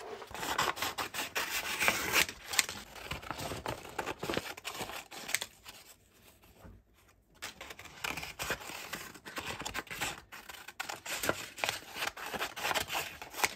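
Scissors snipping and rustling through paper while cutting out pieces for collages, a continuous close-up run of rasping cuts and crinkles with a brief quiet pause midway.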